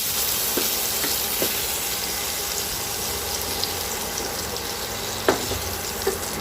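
Prawns fry in mustard oil in a wok, a loud continuous sizzle with a few small pops and clinks as pieces are turned.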